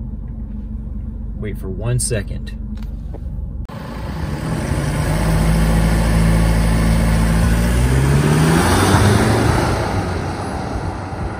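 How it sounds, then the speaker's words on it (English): A diesel Chevrolet Colorado pickup engine rumbles in after a few seconds of talk, its deep, loud drone swelling steadily as the vehicle draws near, then easing slightly toward the end. "Here comes the car."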